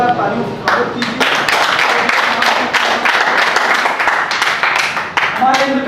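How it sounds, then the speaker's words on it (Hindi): An audience claps loudly in a sustained, dense burst of applause welcoming a guest at a student political gathering, the clapping steady throughout and tapering slightly at the end. "आपका जोरदार तालियों से स्वागत कीजिए"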